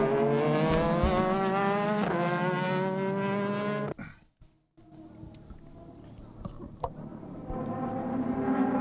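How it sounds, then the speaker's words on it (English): Number 23 Nissan Super GT race car coming in during the 2006 round at Autopolis: a loud, steady engine roar with strong harmonics, cutting out briefly midway, then returning with a rising drone amid trackside noise. "in comes our lead car"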